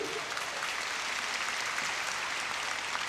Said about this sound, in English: Let's give a round of applause for Ben Richmond